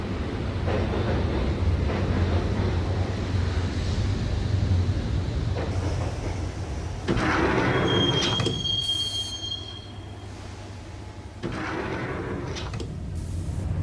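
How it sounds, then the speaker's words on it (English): Subway train ride in the Max Payne video game (2001, PC): a loud continuous rumble of rolling wagons with squealing wheels on the rails, shifting in intensity, with a sharp metallic screech partway through. "the train doors had already shut behind me, and I was in for the ride"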